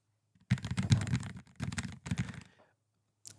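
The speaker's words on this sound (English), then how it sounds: "the way the keys are like super responsive. So I don't know if you can kind of hear this." Rapid keystrokes on a very responsive keyboard at an NVIDIA desktop supercomputer, close and clear in two bursts of quick clicking, then a short pause and a single faint tap.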